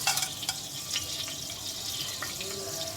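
Whole spices such as fennel seeds, cloves, cardamom, cashews, peppercorns, star anise and bay leaf frying in hot oil for vegetable pulao, giving a steady broad sizzle with a few light clinks, close and continuous.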